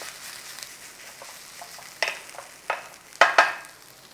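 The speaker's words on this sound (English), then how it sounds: "Nice little stir around, bring it all in" Stock is stirred into a pan of sizzling base for a coronation chicken rice bake. A soft, quiet bubbling runs throughout, and a few louder scraping and clattering strokes come near the end, close up with no voices.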